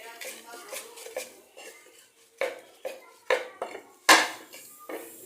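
Mashing shrimp and fish bharta with salt in a bowl gives repeated sharp clinks and scrapes of a utensil against the dish, irregular knocks growing louder, close up.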